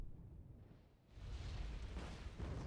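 Artillery strike in the real-time strategy game Wargame: Red Dragon, a faint low rumbling impact swelling into a sustained, roaring barrage partway through.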